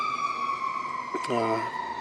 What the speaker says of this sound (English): Pardon the siren there.